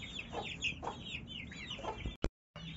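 A broody hen clucks close by in a repeated series of soft, rhythmic clucks, followed near the end by a short sharp knock and a brief silence.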